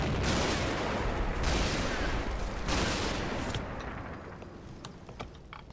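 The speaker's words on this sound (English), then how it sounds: "That's just like infantry machine gun fire." Infantry machine gun fire in a tactical war game, dense crackling bursts in rapid succession, loud and close in the first half before tapering into scattered distant pops.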